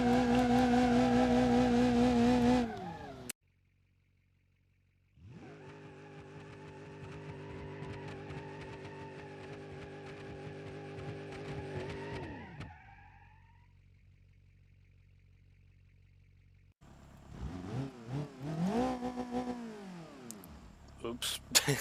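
Grand Marshal drift car engine in BeamNG.drive, revving in sustained harmonic bursts with a brief pause, rising and falling pitch, then erratic revving toward the end; no talking.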